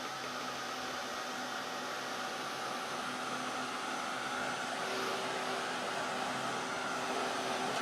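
A hair dryer or heat tool blows steadily over an art journal page being dried, a constant close whirring rush with no change in level throughout.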